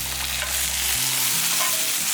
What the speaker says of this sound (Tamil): இப்போ வந்து இந்த குழம்புக்கு வந்து நம்ம வதக்கி வச்சுருக்கிறதெல்லாம் எடுத்து அதில் போட்டுடலாம்.